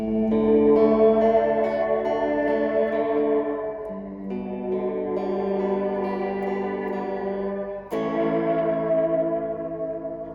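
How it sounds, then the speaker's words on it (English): Fender Reflecting Pool pedal set to a gated shape reverb, processing a guitar: sustained, harmonically rich chords and notes that swell and cut off abruptly, with a fresh attack near the end, loud and steady without any talking. "one again a gated shape reverb special"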